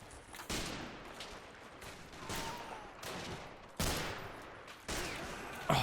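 STG-44 assault rifle fire in the Men of War war game, with sharp overlapping bursts and booming shots repeating across the battlefield, fairly distant and layered with no talking.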